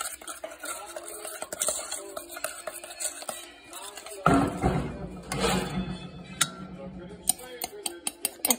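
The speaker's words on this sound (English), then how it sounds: "And then mix it all together. And then stir it." Brownie batter with sugar being stirred in a bowl: scraping, clinking strokes of a utensil against the bowl, irregular and close, with a denser stretch of mixing midway and sharper taps near the end.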